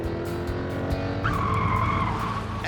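Car skidding at 40 mph on a watered-down road during a test turn, a loud sustained tire squeal over steady engine noise, with no talking.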